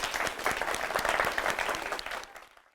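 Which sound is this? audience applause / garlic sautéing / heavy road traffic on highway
audience applause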